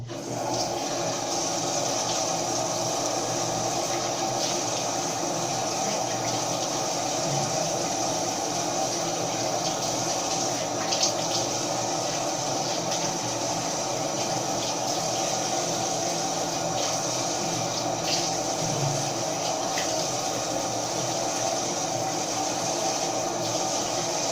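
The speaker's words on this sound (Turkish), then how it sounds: "Tekrardan bir yüzümü yıkıyorum." Running tap water splashing steadily as someone washes their face, a continuous broadband wash of water noise throughout, fairly close, with no talking.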